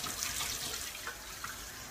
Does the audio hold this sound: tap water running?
yes